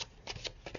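Tarot cards drawn and handled from a deck, a few quick soft papery flicks and slides at close range, quiet with no voices.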